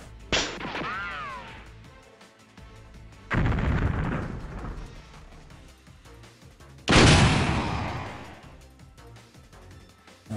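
In a modern tank warfare simulation, incoming missiles are stopped by a tank's active protection system, heard as three heavy, booming blasts spaced a few seconds apart, each with a long rumbling decay.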